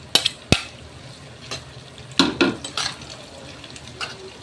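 Beef fat with garlic fries in a pan under a low sizzle, broken by several sharp scrapes and knocks of a spoon stirring against the metal, heard close up with no voices.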